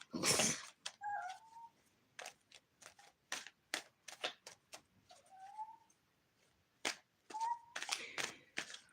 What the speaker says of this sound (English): I have a blind cat that wants to come in and go to bed.